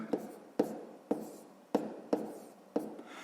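Pen or chalk strokes while writing out the numbers of a long multiplication, six short sharp taps in a steady rhythm, close and quiet with no voice.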